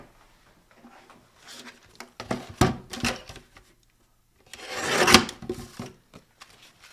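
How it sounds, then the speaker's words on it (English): Card for a handmade autumn card is trimmed in a few short rasping strokes, quiet and close, with pauses in between and two louder scraping passes. "I'm going to trim a little bit more off the sides."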